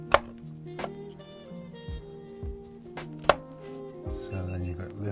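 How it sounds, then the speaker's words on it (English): Knife chopping out the stringy core of a garden cassava root, sharp distinct chops against a board with a couple of louder strikes, spaced irregularly over a few seconds with a faint background hum. "Chop out this stringy part."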